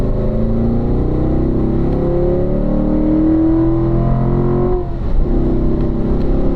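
A Corvette race car engine drones loud and steady on a racing school track, its pitch rising and falling through gear changes with a brief dip near the end before it picks back up.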